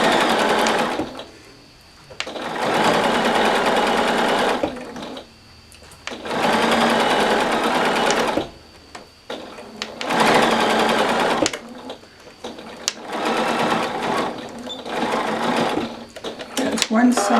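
A sewing machine stitches pinned fabric in several loud, steady whirring runs of a few seconds each, separated by short pauses, with no talk over it.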